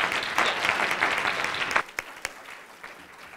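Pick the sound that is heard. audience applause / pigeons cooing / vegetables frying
audience applause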